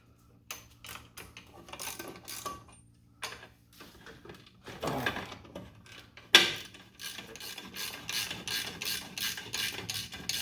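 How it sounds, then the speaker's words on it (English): A wrench ratchets on the clutch-tightening nuts of a John Deere A tractor, giving quiet close clicks in short bursts and then a steadier run of rapid ratchet strokes, with a metallic clank partway through. "I'm going to take off these 3 bolts. These are the bolts or the nuts rather,"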